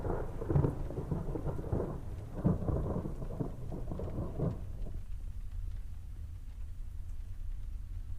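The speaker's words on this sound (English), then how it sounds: "It's raining outside" Steady video-game rain hisses in the background while low rolls of thunder rumble several times, then fade, leaving only the rain.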